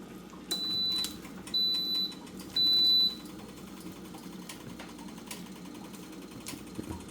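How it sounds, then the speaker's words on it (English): A waffle iron signals that it is ready with three clear, evenly spaced electronic beeps, each about half a second long, over faint kitchen noise and a few light clicks. "That means my waffle iron is ready. When you hear that beep."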